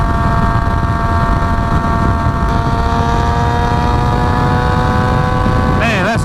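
A Yamaha FZ6R motorcycle engine with a timing advance mod runs loud and close on a ride, a steady droning hum with wind rush, rising in pitch near the end as it revs.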